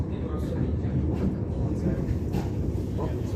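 New Intercity Fleet (Mariyung) passenger train running, a steady low rumble and rattle of the carriages heard from on board, moderately quiet and continuous.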